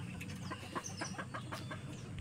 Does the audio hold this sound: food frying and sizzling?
no